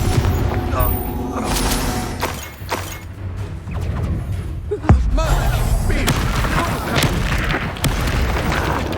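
Confringo blasting spell bursts in the Hogwarts Legacy video game amid dense combat noise, with a sharp impact thump near the midpoint and continuous booms, crashes and clatter throughout; voices speak over the din.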